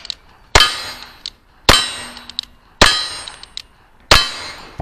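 Four sharp metallic clangs of bullets striking steel targets at a cowboy action shooting match, spaced about a second apart, each ringing briefly, with fainter pings between.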